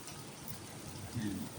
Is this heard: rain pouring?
yes